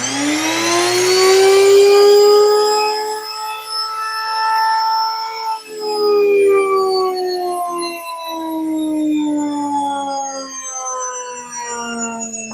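A NutriMill Classic grain mill runs steadily while milling flour, a loud continuous whine with a falling pitch that wavers and dips in places, close and alone with no talk.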